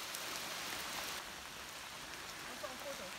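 Steady rain falls during a hike along the Malerweg trail, a soft continuous hiss of drops, faint and even with no clear voices over it.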